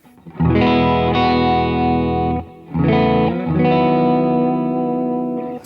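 Electric guitar played through an Ages overdrive pedal, part of a Jet Pedals Red Sea pedalboard chain, giving sustained overdriven chords with a short gap midway, loud and alone with no talk.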